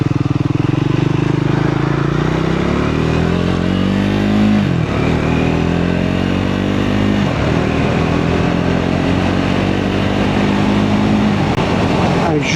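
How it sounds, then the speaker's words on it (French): A Triumph Scrambler 400 X single-cylinder motorcycle rumbles loudly and close as it is ridden. The engine note rises through the gears and drops at each shift, under steady wind noise. "Un joli petit bruit de mono, sympathique."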